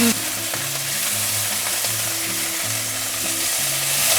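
Ribbonfish pan-frying in oil in a non-stick pan gives a steady, close, loud sizzle with crackling spatter running through the whole stretch, and no voices.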